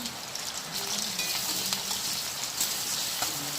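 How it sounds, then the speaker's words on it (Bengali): Chopped onions fry in a hot pan, a steady, close, crackling sizzle with faint scattered pops, continuous throughout with no talk. "পেঁয়াজটা ভালো করে ভেজে নেব"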